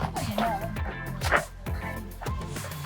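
A dog gives several short, sharp barks and yips outdoors among rocks, close and fairly loud, with people talking around it.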